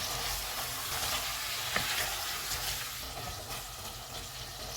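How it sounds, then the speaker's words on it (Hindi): Tomatoes are stirred into a sizzling pot of matka biryani, a faint continuous frying sizzle with soft scraping and stirring movements throughout, close but quiet. "दो मिनट के बाद टमाटर डालेंगे। इनको मिक्स करेंगे।"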